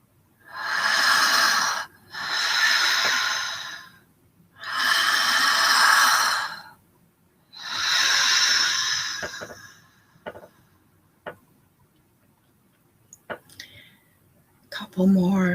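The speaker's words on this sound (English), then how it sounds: "A few more breaths, letting go, being present to the now breath" Slow, deep breaths in a guided breathing exercise: four long, airy inhale and exhale cycles close to the microphone, each lasting about two seconds, followed by quieter small breath sounds and clicks.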